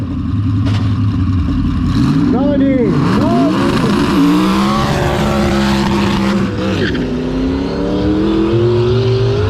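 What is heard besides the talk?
four-wheel-drive car accelerating at hill climb start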